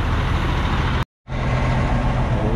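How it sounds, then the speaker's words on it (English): A loud diesel truck rumbles steadily nearby at idle, a dense, constant low drone that cuts out for a brief moment before resuming just as strong. "This diesel truck's a bit loud."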